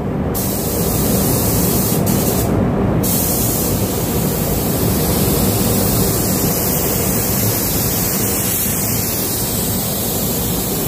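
Spray gun applying green paint to a Suzuki Katana motorcycle, a loud continuous close hiss of atomized spray lasting the whole time, with a few short breaks near the start.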